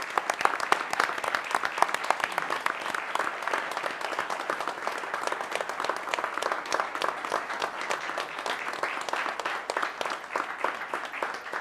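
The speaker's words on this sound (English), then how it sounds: "let's give them another round of applause and thank them for all that they've done" Sustained applause from a crowded county commission meeting room, a dense, even wash of many hands clapping that runs without a break, with one voice briefly speaking over it near the end.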